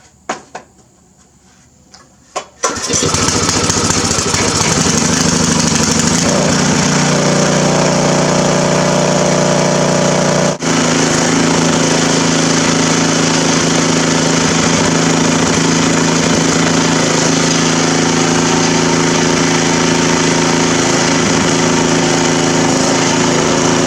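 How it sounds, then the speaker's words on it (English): A Poulan garden tiller engine fires up after quiet handling and then runs steadily, a loud, continuous small-engine drone close by with a brief dip partway through, no talking. "It should start first pull."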